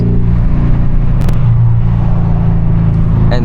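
A Mercedes S-Class engine pulls under acceleration, a loud steady low drone heard from inside the cabin with a brief mechanical whir partway through.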